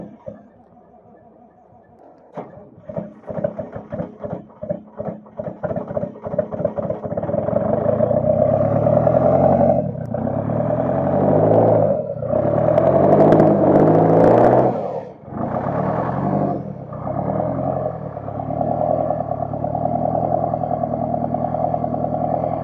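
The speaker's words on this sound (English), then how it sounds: "It's got an electric air compressor to run your splitter." An electric air compressor powering a log splitter rattles into life and runs loud and steady, with surging, clattering bursts in the middle before settling into a continuous mechanical drone.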